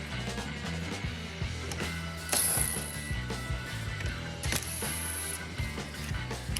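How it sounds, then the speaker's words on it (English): A power gun with a 10mm socket drives out screws on a 2020-2023 Hyundai Elantra during headlight removal, giving a steady mechanical ratcheting whir with two sharper, louder bursts, close and without talk. "Here I'm using a 10mm socket along with a gun to take both of them out."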